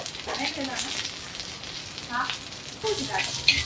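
Green chillies fry in oil with salt in a pan during caravan cooking near a waterfall, giving a soft steady sizzle with light crackles and occasional clinks, while a voice talks quietly over it.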